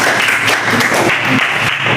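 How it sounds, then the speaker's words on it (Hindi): Schoolchildren in a maths classroom clap together in a dense, continuous round of applause, close and fairly loud, lasting a couple of seconds. "जोरदार तालियां बजा दो एक बार उत्कर्ष के लिए"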